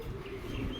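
Running English fantail pigeons give off soft, faint cooing and bird calls under a steady background hiss.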